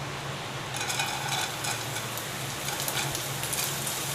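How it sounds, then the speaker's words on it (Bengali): Moong dal frying in a little hot ghee in a pan, a steady soft sizzle and light patter of grains being stirred, close and moderately quiet, with no talking. "দেখুন, ডালটা আমি ভেজে নিচ্ছি।"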